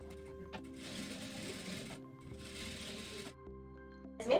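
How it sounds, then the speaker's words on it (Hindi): A sewing machine stitching a collar whirs in two steady bursts of about a second each, separated by a brief pause, quiet and close with no talking. "एक सिलाई आप यहां पे भी लगाएंगे।"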